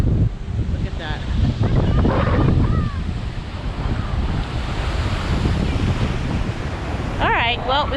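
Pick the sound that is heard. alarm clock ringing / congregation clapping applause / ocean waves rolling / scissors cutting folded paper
ocean waves rolling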